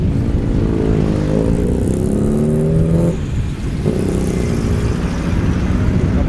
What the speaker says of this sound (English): Peugeot 205 didn't sound great